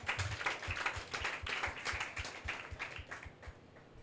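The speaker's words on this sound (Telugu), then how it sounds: "దేవునికి చప్పట్లు కొట్టండి అర్థమైతే." Church audience clapping for God in a loose, rhythmic beat, the claps fairly soft and evenly spaced, with no talking over them.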